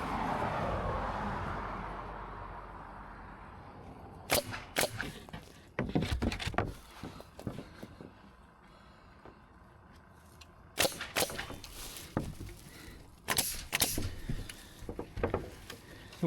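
A staple gun fires staples into wood on an outdoor fence job, sharp close snaps arriving in quick irregular clusters after a windy rumble at the start.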